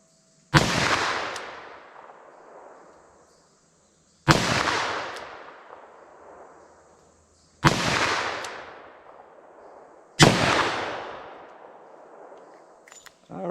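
Four loud, sharp gunshots from a 10mm revolver firing Underwood ammo, spaced a few seconds apart, each with a long ringing outdoor decay and no talking.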